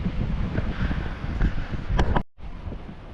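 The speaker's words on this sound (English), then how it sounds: "It's very windy out here." Strong wind in Puerto del Carmen, Lanzarote, buffets the microphone in loud, gusty rumbles, briefly dropping out before the blustery roar resumes.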